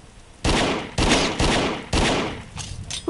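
Gunfire from a shooter in the PSVR video game The Walker, four or five loud separate blasts in a row at roughly half-second gaps, each ending in a decaying tail, with no talking.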